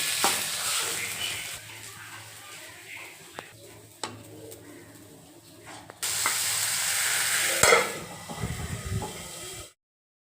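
Curry fries in a pan in a home kitchen with a bright, continuous sizzle and occasional stirring scrapes, growing louder midway, while a bird coos faintly in the background before everything drops to silence.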